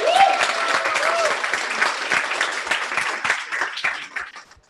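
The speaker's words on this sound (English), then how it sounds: "Let's give DB another round of applause for that awesome presentation" An audience claps after a presentation at a tech event, a lively burst of many hands that starts strong and gradually fades away, with a voice heard briefly at the start.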